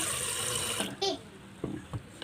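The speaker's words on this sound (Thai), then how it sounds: "เราต้องเอาน้ำเนี่ยเททิ้งก่อน สักสองสามน้ำเลย" Water being poured out of a bowl of soaking beans, a short splashing pour that stops abruptly, followed by faint clinks and handling noises.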